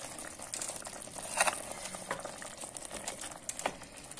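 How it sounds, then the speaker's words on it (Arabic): Meat sizzling and bubbling in a pot after a glass of water is added, for Fez-style meat with potatoes; a steady close frying crackle with brief louder spurts, no voices. "دابا بعد ما درنا داك الكاس ديال الماء صافي كنبداو نقليو بحال هكا"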